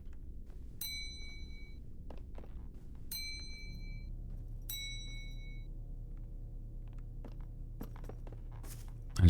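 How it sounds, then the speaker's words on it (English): A bell in a video game rings three times in succession, bright chimes spaced a second or two apart, over a low steady ambient hum and faint clicks. "I just like ringing my bell,"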